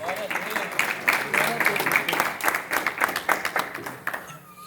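A church congregation claps together through a continuous burst of applause, with voices mixed into the clapping before it quickly fades.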